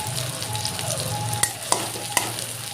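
Chopped onion sizzles steadily in hot oil in a pan where fish was just fried, with whole cumin and a bay leaf, while a spoon clicks sharply against the pan three times near the end.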